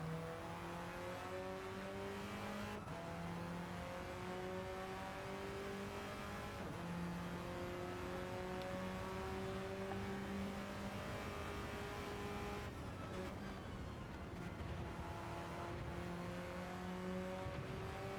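A race car engine in a racing video game revs high through repeated gear shifts, climbing and dropping in pitch several times at a steady, moderate level with no talk.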